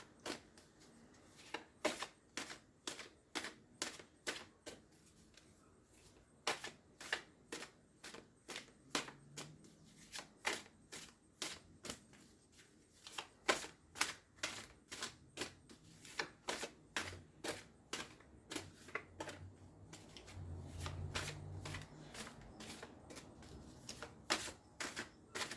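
Tarot cards are riffled over and over in quick, crisp bursts, a steady rhythm of papery flutters close by with short pauses between.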